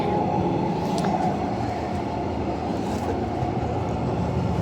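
Steady low rumble of a train interior in motion, continuous broadband noise with a few faint higher squeaks, no talking.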